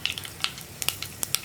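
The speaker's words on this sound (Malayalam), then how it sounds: "കടുക് ഒന്ന് പൊട്ടി തുടങ്ങട്ടെ." Mustard seeds spluttering in hot coconut oil in a pan, a fast scatter of sharp little pops and crackles over a soft steady sizzle, close and alone.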